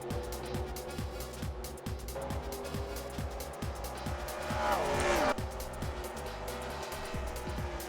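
Stock cars roar around Dover in a NASCAR-style racing video game, the 05 Turtle Wax car and the 42 Miami Dolphins Pontiac dueling for position; steady engine drone with rhythmic pulses and a rising tire squeal, under a faint commentary voice.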